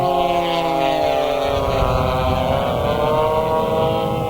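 A pylon racing model airplane, a stubby, high-performance Super Beer 4, drones past with a loud, sustained high-pitched engine whine that holds steady throughout, with no voices.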